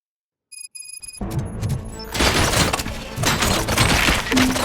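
Gunfire erupts in the RoboCop video game, a dense chaotic fusillade of cracks, bangs and crashing impacts building after a brief electronic chime, loud and continuous with no talking.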